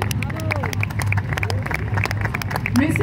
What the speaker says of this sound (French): On peut les applaudir, les encourager, s'il vous plaît.